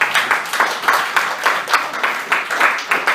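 A congregation claps together at a church service, sharp claps landing in a steady rhythm of about three per second, fairly loud and close, with voices mixed in.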